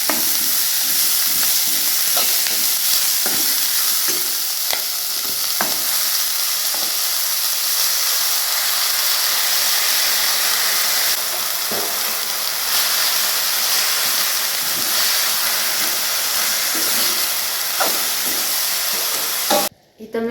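Drumstick (shevga) vegetable is stirred and sizzles in a hot pan. A loud, continuous frying hiss runs throughout with occasional scraping stirs, then cuts off abruptly at the end.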